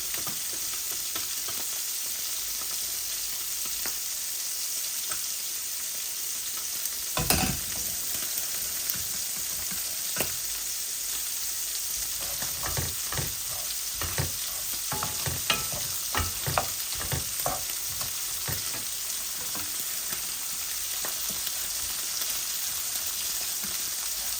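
Garlic frying in a pan for a tangy tomato chutney, a steady soft sizzle throughout with scattered scraping and stirring clicks, one sharper clatter partway through, close and fairly quiet, no voices.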